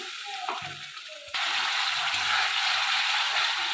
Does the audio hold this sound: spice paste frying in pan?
yes